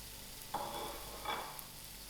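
Slightly browned onions with thyme being stirred in a frying pan: two distinct scraping sweeps of a spoon over a steady low sizzle.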